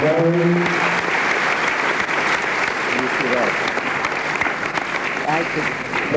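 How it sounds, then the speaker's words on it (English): Audience at a book talk on medicine breaks into sustained applause, a full, even clapping wash at close range, with a speaker's voice faintly audible beneath it at the start and again near the end. "Professor Uday Surya, India, a special applause for him"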